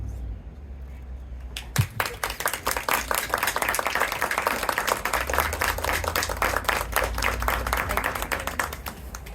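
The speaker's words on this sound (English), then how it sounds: "stand to be acknowledged by those present by round of applause" At a Remembrance Day ceremony, a crowd breaks into applause for service members and veterans after a brief quiet start, with loud, dense clapping that continues steadily to the end.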